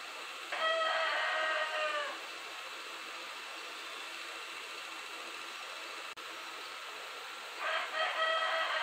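Roosters crow at dawn in Amazonas, Brazil, with two drawn-out crows about seven seconds apart, moderately distant and heard over a steady fan-like background hum.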